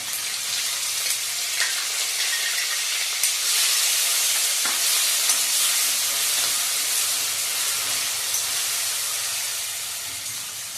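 Onion sautéing with cumin in a pan, a continuous bright sizzle and hiss with occasional stirring clicks, close and steady throughout, easing slightly near the end.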